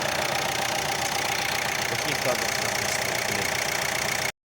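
A Renault Laguna 3 engine runs at idle during air bleeding of the cooling system, a steady close mechanical hum with a faint knocking texture; a voice speaks briefly over it before it cuts off.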